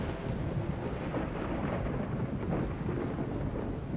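Rain and thunder effects from the F1 Challenge racing game during a 1973-season career race form a steady, dense wash of rainfall with low rumbling that holds unbroken throughout.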